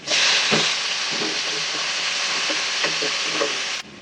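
Onions and tomato sauté in a pan with a loud, steady close-up sizzle and hiss, broken by light stirring scrapes, until the sound cuts off near the end.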